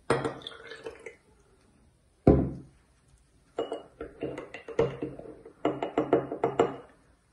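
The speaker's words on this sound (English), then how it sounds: "Let's dilute 1 spoon of starch in tap water." A spoon of starch is stirred into tap water in a glass during a chemistry demonstration, giving sharp clinks of metal on glass and bursts of rapid stirring and tapping separated by short pauses.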